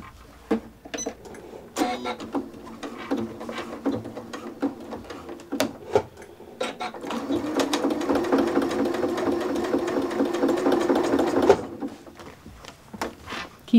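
A sewing machine stitches a drawstring tote backpack on its free arm with a long stitch length, running in short bursts before settling into a steady, close whirring run.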